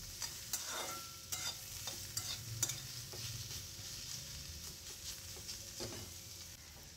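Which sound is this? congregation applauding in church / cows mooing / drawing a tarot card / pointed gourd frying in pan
pointed gourd frying in pan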